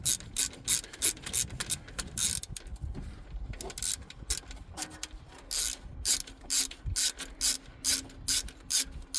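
A hand ratchet working a 10 mm bolt on top of the alternator of a 2013 Toyota RAV4 2.5, clicking in close, rapid bursts of back-and-forth strokes with short pauses, no talking.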